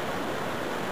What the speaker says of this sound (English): I guess it is a waterfall.